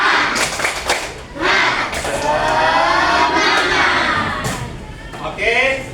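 A school class claps and chants a spirit clap in a classroom, a loud mix of rhythmic hand claps, children's shouted chanting and cheering voices all together.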